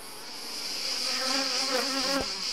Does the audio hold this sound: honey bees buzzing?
yes